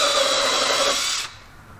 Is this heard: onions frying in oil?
no